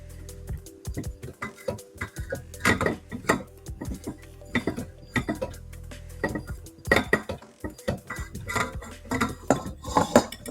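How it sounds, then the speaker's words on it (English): A spatula scrapes around a mixing bowl of hot peanut butter fudge, with repeated close scrapes and metallic clinks in uneven bursts. "we are going to scrape that bowl"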